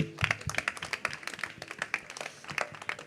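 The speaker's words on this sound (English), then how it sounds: "A big applause to you" Scattered clapping at an award ceremony, a small group of hands beating in irregular bursts at close range, moderately loud and fairly thin rather than a full roaring ovation.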